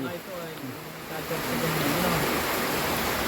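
Steady rain falling outdoors at a land surveying site, a continuous broadband hiss holding even and close throughout with no voices over it.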